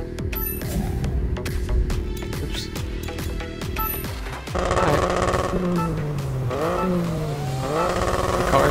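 A damaged rally car's engine in the WRC 9 racing game, revving and changing pitch over several gear shifts with rattling noise, steady and fairly loud, no talk over it.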